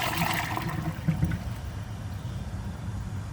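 A WaterRidge one-piece toilet flushes a washcloth, a loud rushing surge of water at the start that settles into a steady swirling drain and trickle, heard up close with no one speaking.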